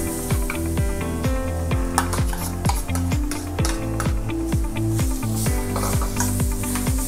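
Grated coconut being stirred and roasted in a hot pan for a Kerala-style curry: steady, rhythmic scraping strokes about twice a second with a soft sizzle underneath, close and continuous, with no talking.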